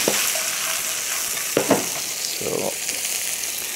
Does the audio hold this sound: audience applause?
no